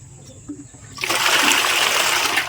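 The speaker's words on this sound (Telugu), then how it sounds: "ఇంకొంచెం నీళ్ళు పోస్తున్నాం" After a second of near quiet, a loud, close stream of water gushes over a large, cleaned and gutted pond fish just out of the fridge, a steady splashing rush that continues to the end.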